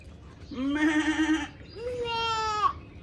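Two goats bleat at a zoo in Abu Dhabi, one long wavering call followed by a second rising, strained bleat, close and loud with faint crowd murmur behind.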